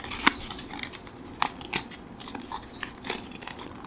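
Paper for an origami bow is folded and pressed by fingers, giving scattered crisp crinkles and sharp creasing snaps close up, with no talking.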